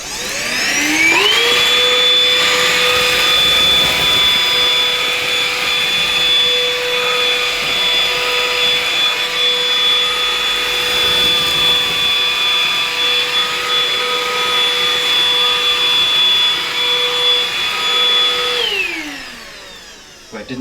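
A PrettyCare W100 cordless vacuum running on maximum suction over carpet: a loud, steady motor whine with a high tone that holds for about eighteen seconds, then winds down as it switches off.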